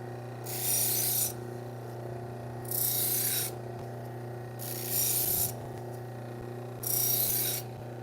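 Kitchen knives from a butcher block being sharpened on a powered sharpening machine: four evenly spaced bright rasping passes of a blade against the abrasive, each about a second long, over a steady motor hum, close and with no talking.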